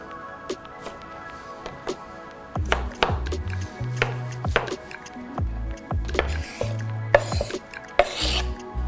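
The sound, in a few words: dicing tomatoes on a chopping board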